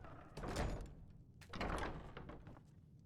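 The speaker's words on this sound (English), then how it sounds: "Close the door." A wooden door closes in the fantasy video game Enderal, a Skyrim mod, with two soft thuds about a second apart, close and moderately loud against quiet room tone.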